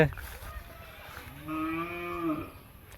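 A loose cow gives one drawn-out moo partway through, following a short stretch of quiet outdoor noise. It is moderately close and alone, and there is no talking.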